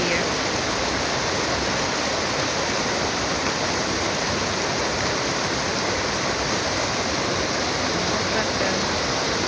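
An outdoor waterfall pours in a continuous, loud broadband roar, steady and unbroken from start to finish, with no distinct splashes standing out from the rushing wash of water.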